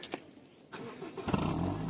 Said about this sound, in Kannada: ಸ್ಟಾರ್ಟ್ ಮಾಡ್ಕೊಳ್ತೀನಿ. Silencer sound ಕೇಳಿಸ್ತೀನಿ.